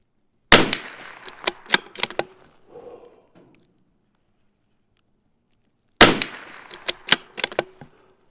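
A CZ 457 rifle fires two sharp, loud shots about five seconds apart, each followed by a quick run of fainter cracks and ticks, with near silence in between.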